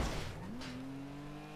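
A stock car with no turbo in the GTA video game revs steadily, its engine note climbing and then holding at a constant pitch, loud and close for the whole stretch with no talk over it.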